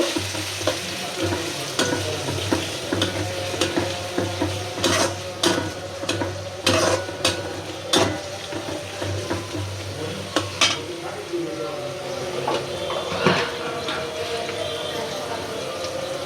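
Onion dropped into hot oil and fried while being stirred, giving a continuous sizzle broken by sharp metallic clinks and scrapes of a utensil against the pan, with a voice talking now and then.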